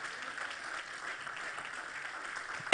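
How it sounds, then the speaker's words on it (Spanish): A church congregation applauds the Lord during a Spanish-language service, a faint, distant patter of clapping held at a low, even level, cut off by a sudden loud burst at the very end. "Dale un aplauso fuerte al Señor"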